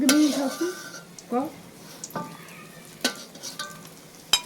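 Food frying in a pan in a home kitchen, with a low sizzle under repeated metal scrapes and clinks of a spatula against the pan, arriving as irregular sharp knocks.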